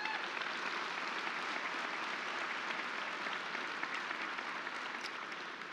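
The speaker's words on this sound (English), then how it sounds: "Let's give these individuals a round of applause." Audience applause at a Bowling Green State University summer commencement ceremony: dense, sustained clapping from a large crowd, steady throughout and easing slightly at the end.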